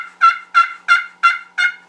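Five evenly spaced turkey yelps from a hand call used for turkey hunting, clear and fairly close, each short and slightly raspy, repeated in a steady rhythm, imitating a hen.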